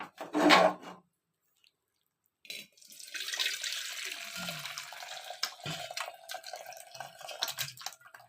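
A pressure cooker being washed under a running kitchen tap, water pouring and splashing steadily into the sink with intermittent knocks and rubbing, after a brief burst and a pause.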